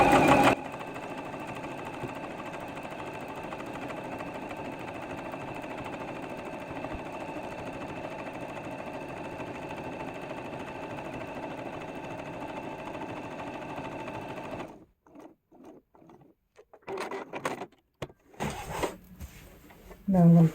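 A sewing machine runs steadily along the seam line of a quilt-as-you-go block, a continuous close mechanical whir that stops near the end, followed by a few short bursts of handling and restarting.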